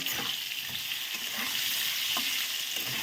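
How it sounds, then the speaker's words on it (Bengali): Pieces of salted pointed gourd (potol) fry and sizzle in a pan, a soft continuous crackle with occasional stirring scrapes, fairly quiet and with no talking. "পটলগুলোকে বেশ সুন্দর করে আমি ভেজে নেব"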